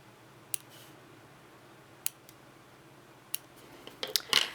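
Scissors snip gel nail extension tips, cut with the non-dominant hand: three sharp, isolated clicks spaced over a few seconds, then a quick cluster of closer snips at the end, with no talk.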